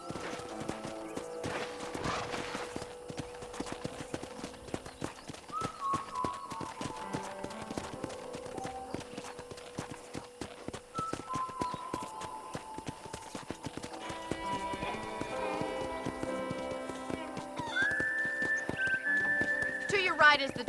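Horse hooves clip-clopping on a ranch in the video game Red Dead Redemption, a steady walking rhythm under a music score, with occasional snorts and a whinny near the end.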